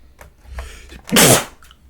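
A single sharp sneeze close to the microphone, preceded by a quick breath, in an otherwise quiet room.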